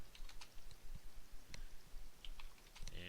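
Numbers typed on a computer keyboard, a quiet run of light, irregular key clicks close by in an otherwise silent room, with no voices.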